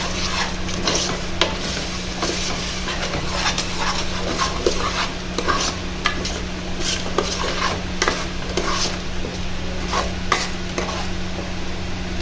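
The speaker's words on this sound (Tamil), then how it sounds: "ஸோ அதை கொஞ்சம் கிளறி விட்டுக்கோங்க தக்காளியோட." Egg gravy with ground tomatoes being stirred in a hot pan, a steady sizzle with repeated scraping strokes of a spoon against the metal, close and continuous throughout.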